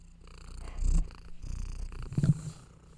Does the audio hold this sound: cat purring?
yes